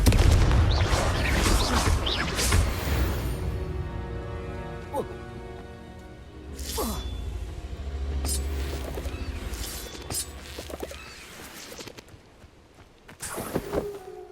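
A Confringo blasting spell in Hogwarts Legacy erupts as a deep rumbling boom amid crackling game effects, with someone speaking over the scene.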